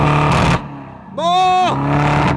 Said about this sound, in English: Now put it into Sports Plus mode. So that's gonna open up the valves in the exhaust,